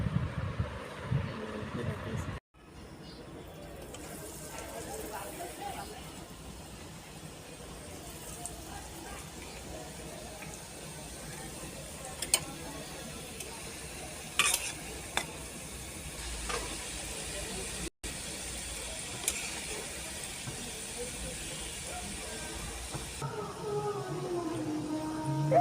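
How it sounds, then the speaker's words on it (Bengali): Pitha cakes frying until brown in a pan give a steady, moderate hiss and sizzle that runs continuously, with occasional small clinks over the bubbling. "সবগুলো বাদামি কালার করে ভাজতে নিছি।"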